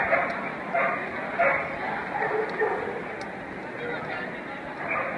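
Dogs bark and yip in a busy crowd at a lure coursing run during a pet expo, the barking repeating in bursts beneath steady chatter from people nearby.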